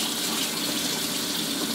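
Water running steadily from the tap of a gas water heater, a dense continuous broadband gush that holds an even level without pause.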